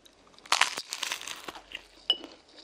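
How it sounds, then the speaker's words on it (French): Crisp, crackly crunches of flaky phyllo pastry from baklava with walnuts and almonds being bitten and chewed up close, a few sharp bursts with quiet pauses between. "Le phyllo est bien croustillant."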